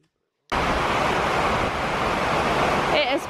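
Heavy rain pouring outside, a loud dense steady hiss that starts abruptly after a moment of silence and continues close and unbroken, with a brief voice near the end.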